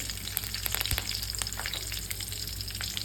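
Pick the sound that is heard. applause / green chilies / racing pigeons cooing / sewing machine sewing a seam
green chilies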